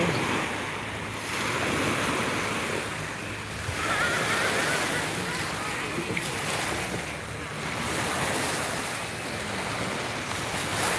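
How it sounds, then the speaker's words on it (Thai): Sea waves wash steadily onto a beach surrounded by mountains, a continuous broad roar that swells and eases, with wind buffeting the microphone and a voice talking faintly beneath. "ทางโน้นก็จะเป็นทะเล"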